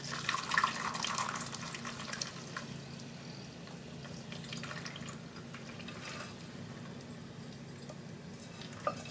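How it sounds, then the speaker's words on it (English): Rose hip infused coconut oil strained through a paper coffee filter set in a funnel, a soft continuous trickle and faint liquid patter, quiet and close, with no talking. "we're going to pour it into the coffee filter into the funnel"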